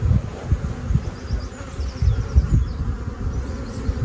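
Honey bees buzz close by at an open hive during a beekeeper's inspection, a steady low drone with fluctuating swells and no voices.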